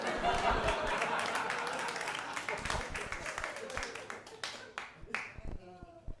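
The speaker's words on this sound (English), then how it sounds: "Now you're applauding?" A comedy club audience applauds, with dense clapping at first that thins into scattered individual claps and fades out over about six seconds, with some voice activity mixed in.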